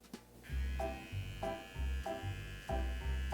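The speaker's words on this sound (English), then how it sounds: "What was that buzzing noise in there though? Oh, just trimming all the pubes from the cob." Electric trimmer buzzing in short repeated bursts against a corn cob, a close low mains-like hum with a steady higher whine, about five pulses with brief gaps, quiet overall.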